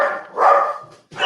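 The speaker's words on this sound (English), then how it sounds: "Whose dog is barking?" A dog barks a few times at moderate loudness, short rough yelps in two bursts separated by a brief gap, heard close by with no talking over it.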